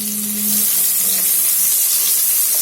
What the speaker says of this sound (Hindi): प्याज ऐड कर लेंगे। और इसे हम फ्राई कर लेंगे 2 मिनट तक हाई फ्लेम पे